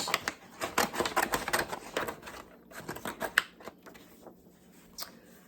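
Scissors cutting folded paper along a seam line for a wedding junk journal, heard close up as a quick run of crisp snips and rustles that thin out toward the end.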